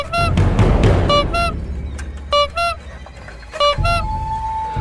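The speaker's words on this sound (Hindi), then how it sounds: "तभी एक रिक्शा हॉर्न देते हुए आया।" A rickshaw horn on a dark night street sounds in quick double toots, repeated several times close by over a low rumbling background.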